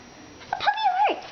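A short, high, rising-and-falling whimpering whine from a cartoon puppy in the Webkinz video game, heard alone and brief.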